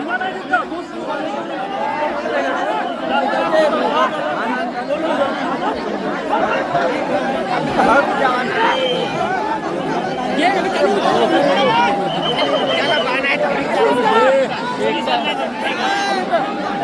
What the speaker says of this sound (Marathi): भयंकर क्राऊड आहे भयंकर.